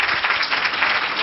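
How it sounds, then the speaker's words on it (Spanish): Audience applause for the panelists at a discussion panel on stereotypes and violence, a dense, steady burst of many hands clapping, loud and close throughout with no pauses. "le voy a pedir un aplauso para los panelistas"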